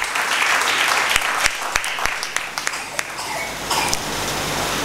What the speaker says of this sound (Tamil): இந்த குழந்தைகளுக்காக ஒரு தடவை நீங்கள் பலத்த அளவில் கைத்தட்ட வேண்டும்.